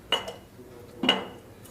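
A kadai (wok) set down on a gas stove gives two distinct metallic clanks about a second apart, close and fairly crisp, with quiet background between.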